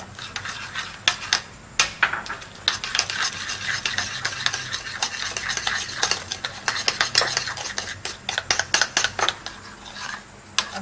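A spoon stirs eggs into cupcake batter in a bowl, giving a steady run of scraping and clinking strokes against the sides, close and fairly loud throughout with no talking.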